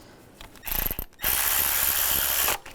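A ratchet wrench tightens a nut on the thermostat housing of a 2001-2006 BMW 325xi. Close, dense clicking comes in a short burst and then a longer steady run, with no talking.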